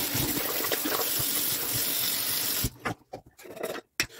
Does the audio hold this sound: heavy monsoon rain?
no